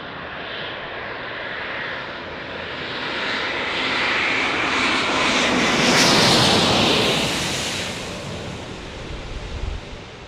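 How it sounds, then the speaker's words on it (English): A Lufthansa jet airliner arriving at San Diego airport, a broad engine roar building steadily to a loud peak overhead before slowly fading, heard alone. "Here comes Lufthansa."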